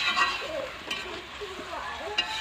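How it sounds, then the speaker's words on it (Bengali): Spinach paste goes into a frying pan of hot oil, raising a moderate, crackling sizzle with soft stirring scrapes while a voice speaks quietly underneath. "এবার দিয়ে দেবো পেস্ট করে রাখা পালং শাক।"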